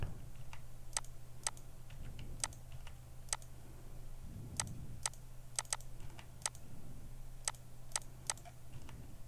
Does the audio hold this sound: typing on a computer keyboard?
yes